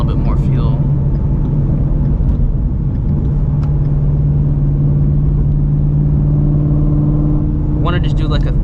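Supercharged Ford Mustang GT350 running on race fuel, its engine pulling hard with a loud steady drone and rising supercharger whine heard from inside the car, the tone climbing near the end.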